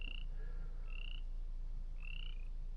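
Outdoors in Shoshone National Forest, Wyoming, a frog gives a few short, thin croaks at a moderate distance over a steady low background hum, with no talking.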